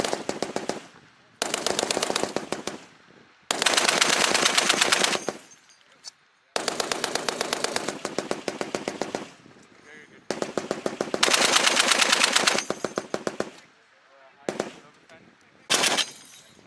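Marine Corps machine guns fire on a training range in long, loud sustained bursts separated by brief pauses, with short voices between the strings of fire.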